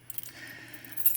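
Firelight and Notifier fire alarm system keys jangle briefly and faintly in a quiet room, with a couple of small metallic clinks.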